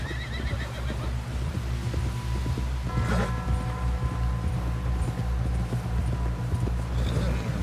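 A horse whinnies loudly in Red Dead Redemption 2 over steady hoofbeats and a low rumbling background, with a voice speaking partway through.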